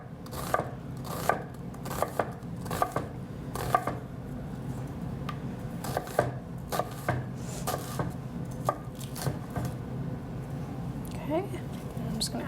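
A knife slices an onion on a cutting board in a steady series of crisp taps, close and fairly quiet over a low background hum.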